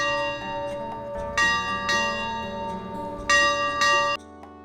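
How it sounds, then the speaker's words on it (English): A ranch dinner bell rings out in bright metallic clangs, struck in two pairs with a gap between, each strike ringing on before fading. "when the dinner bell rings throughout the ranch"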